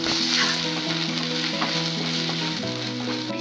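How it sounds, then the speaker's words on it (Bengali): Cumin paste and chili paste frying in hot oil, a steady close sizzle with light stirring throughout, backed by soft melodic music. "জিরে বাটাটা ভালো করে ভেজে নিয়ে লঙ্কা বাটাটা দিয়ে দিচ্ছি"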